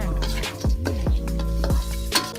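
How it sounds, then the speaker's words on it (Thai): Garlic frying in a hot pan for Thai noodle toppings, a steady close sizzle running throughout, broken by clinks and scrapes of a utensil against the metal pan. "เจียวกระเทียมกันเองด้วยนะ"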